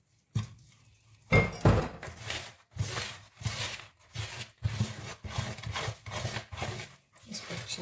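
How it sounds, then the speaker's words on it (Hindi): Eggless cake batter being stirred by hand in a bowl, a steady series of rhythmic scraping, rubbing strokes with light clinks against the bowl, close and fairly loud, with no voices. "इसको अच्छे से ऐसे मिक्स कर लेंगे।"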